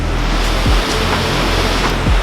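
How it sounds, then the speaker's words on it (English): Roaring rush of a large waterfall in Massachusetts, a steady broadband wash of falling water that stays loud and unbroken from start to finish, with no voices. "this waterfall is big"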